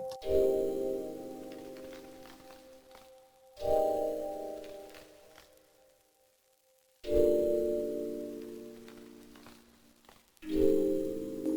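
A synthesizer plays four sustained chords, each swelling in and slowly fading, separated by short gaps of near silence.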